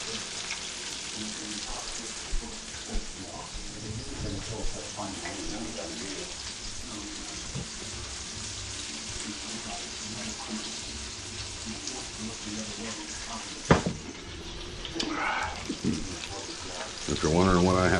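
Keto breaded chicken frying in hot oil, a steady crackling sizzle throughout with occasional clatters and a louder burst of bubbling toward the end.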